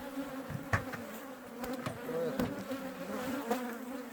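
Bees buzz steadily around an open hive being fed and maintained, a continuous close drone with occasional louder passes and light knocks from handling.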